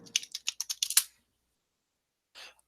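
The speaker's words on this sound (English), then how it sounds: "Stop typing so goddamn loud, you mechanical keyboard fuck." A burst of rapid, crisp clicking from a mechanical keyboard with blue switches, about ten keystrokes in quick succession, followed by silence and one soft clack near the end.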